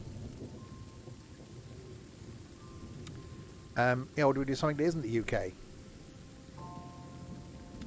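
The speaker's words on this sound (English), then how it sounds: "It's raining. I'm going to get wet." Steady rain with low thunder rumble in Train Sim World 3, continuous beneath someone speaking briefly in the middle before the rainfall carries on alone.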